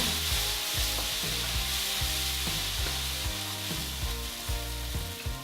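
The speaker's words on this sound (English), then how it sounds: "now we're going to add our quinoa. Mix that around." Quinoa stir-fried in a pan sizzles steadily while a utensil scrapes and stirs in a repeating rhythm, close and fairly loud, with no voices.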